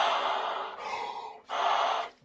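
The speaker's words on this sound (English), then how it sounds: "deep breath, put some air through the horn just so that I know how much air that I need to be using" A deep inhale followed by air blown through a trombone without a note, two long breathy rushes separated by a short pause, close and fairly loud with no talking.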